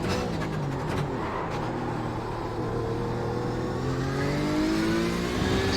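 Porsche 911 RSR racing a lap at Spa-Francorchamps in iRacing, engine revving hard and climbing steadily through the gears with a loud continuous roar.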